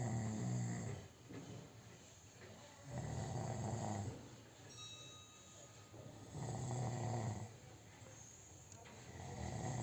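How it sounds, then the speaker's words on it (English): A man sleeping snores in slow, regular cycles, each loud rumbling inhale rising and fading, three clear snores spaced about three seconds apart, close and alone without talk. "The sweet sound of an snoring."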